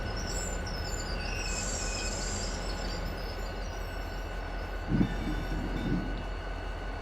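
Freight train hauling a string of gondola cars in the Run 8 rail simulator, a continuous steady rumble of wheels on track with a faint high squeal early on and a couple of soft clunks near the end.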